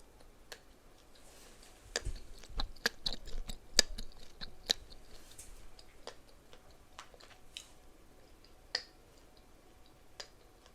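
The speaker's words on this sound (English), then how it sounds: "you can also crack the gum with your mouth closed" Chewing gum is cracked with the mouth closed, producing sharp, irregular little snaps and clicks, close up and fairly faint, scattered over soft chewing sounds with no talking.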